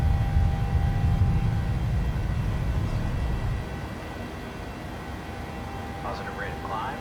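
A fixed-wing airplane taking off and climbing just after rotation, heard from inside: a loud, steady engine roar that eases slightly partway through as the climb continues.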